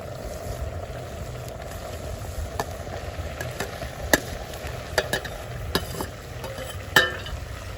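Saltfish rundown being stirred in a cooking pot, a steady wet scraping and bubbling with a few sharper knocks of the spoon against the pot, close and continuous.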